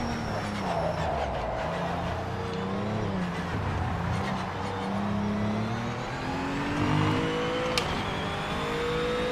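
A race car engine in a racing video game drones and revs steadily, its pitch rising and falling through gear changes, loud and continuous with no talking.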